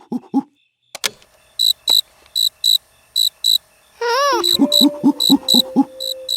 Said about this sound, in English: that's a nice recording of a cricket.